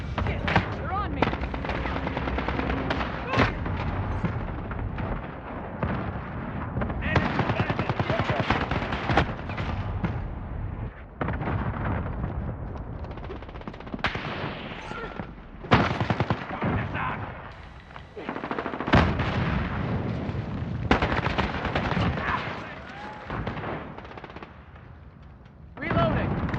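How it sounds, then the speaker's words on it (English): Explosions of an allied cluster strike in a video game go off as repeated loud bursts, mixed with heavy, continuous gunfire throughout the scene, while players talk over the din. "Allied cluster strike incoming."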